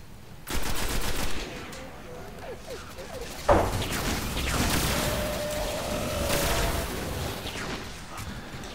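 Gunfire from the video game Destiny, with a burst of loud shots near the start and another sharp blast midway, then continuing game action and rumbling effects.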